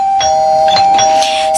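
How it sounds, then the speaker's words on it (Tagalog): A house doorbell rings at the front door, its bright electronic chime tones sounding clearly and close by with no talk over them. "Ito, meron doorbell."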